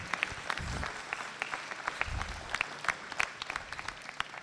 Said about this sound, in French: alors vous pouvez les applaudir